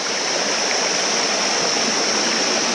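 A mountain stream in the green hills of Ilam, Nepal, rushes over slippery rocks, a loud, steady broadband roar of close water that fills the whole stretch without pause.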